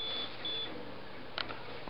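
A small electronic device gives two short high-pitched beeps, then a third, softer chirp a moment later, against a steady background hiss.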